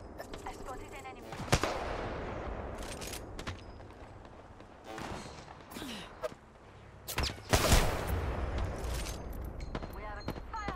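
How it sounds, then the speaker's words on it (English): Gunfire in the battle royale game Apex Legends, sharp scattered shots and bursts cracking through a busy fight, with a voice talking over much of it. "They're shooting at me."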